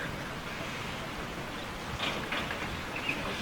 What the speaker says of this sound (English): this rain is just typical, isn't it?